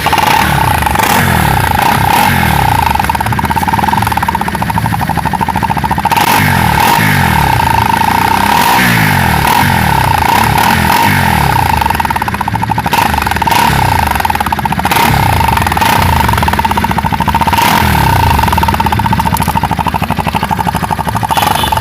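Motorcycle exhaust fitted with a silencer, revving repeatedly in close, loud bursts over a rough idle with mechanical clatter, no talk.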